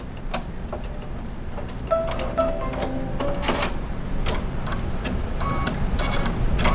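An embroidery machine sews a basting stitch on fabric, a fast steady mechanical ticking and clatter of the needle with brief whirring motor tones, close and continuous with no voices.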